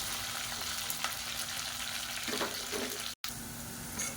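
Sliced onions sizzle steadily in hot oil with fennel seeds and curry leaves for a potato gravy, a continuous close frying hiss with faint stirring scrapes and a short break near the end.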